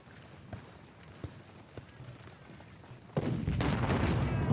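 Battlefield gunfire and artillery in Ultimate General Civil War: scattered distant shots at first, then a dense, loud rolling volley of musketry and cannon fire building up near the end.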